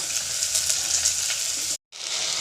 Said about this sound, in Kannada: 1-2 ನಿಮಿಷ ಫ್ರೈ ಮಾಡೋಣ